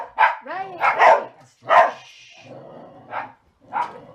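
A small dog barks in a rapid series of sharp yips and woofs, several bursts separated by short pauses, fairly clear and not far off, with no talking over it.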